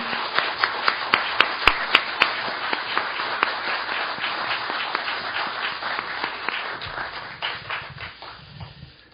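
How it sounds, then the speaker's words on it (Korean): An audience applauds at a political gathering with sharp individual claps standing out early, then the clapping thins and fades toward the end. "여러분의 큰 박수가 필요합니다."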